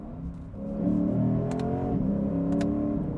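A 2024 Lexus IS 500's V8 engine revs and climbs in pitch, then drops briefly as its 8-speed automatic shifts gear before rising again, heard from outside the car.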